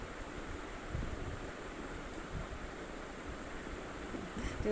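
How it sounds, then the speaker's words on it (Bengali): Sea waves wash onto a beach at dusk, a continuous low rumbling surge mixed with wind noise on the microphone, fairly faint and steady throughout. "সমুদ্রে দেখেছো ঢেউ আসছে কেমন"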